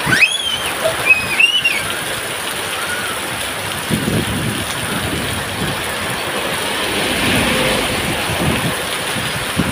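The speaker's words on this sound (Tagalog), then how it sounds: "Lakas ang hangin at ulan, oh." Strong wind and heavy rain roar as a steady broadband wash throughout, with gusts swelling and fading; a few brief voice exclamations cut in near the start.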